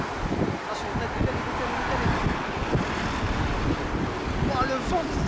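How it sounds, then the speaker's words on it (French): Wind blowing steadily through a broadband rush on a stormy outing in Italy, with low buffeting rumble against the microphone throughout while people talk over it. "Oh, le vent qui s'infiltre."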